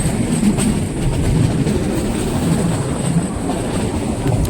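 A train runs at Sasan Gir railway station, its loud, continuous rumble and clattering wheels filling the scene up close without any talk.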